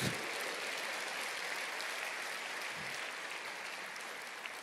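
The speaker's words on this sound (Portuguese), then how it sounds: "Aplauda o Senhor, diga eu creio." A church congregation applauding during a sermon, steady sustained clapping that fills the space at moderate level without a break.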